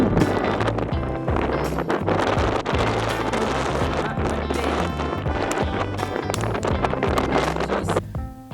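Strong wind buffets the microphone on location on the Isle of Lewis, a loud, continuous roar with gusty low rumble and scattered knocks and thumps, heard alone without talk.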